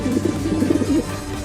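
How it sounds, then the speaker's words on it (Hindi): Pigeon cooing comes from inside a nearby house as a short run of soft, warbling coos over a low steady background hum, moderately loud, with no one speaking. "अरे वाह, चिंटू के घर में से कबूतर की आवाज आ रही है।"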